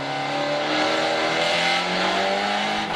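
A pack of Supersport race cars accelerates hard off the start line at Assen, a dense, loud wall of revving engines that holds steady for the whole moment.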